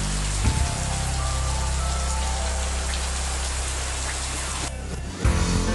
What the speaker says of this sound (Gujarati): ચાંખેડામાં સવારે ધોધમાર વરસાદ જોવા મળ્યો।